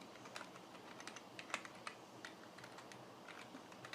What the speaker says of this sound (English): let me type it here